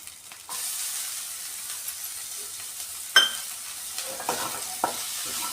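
Onions browned to pink in a pan for masala bhindi, with chopped tomatoes just added, sizzle and hiss close up in a steady frying wash, broken by a few sharp stirring scrapes and clinks. No one speaks.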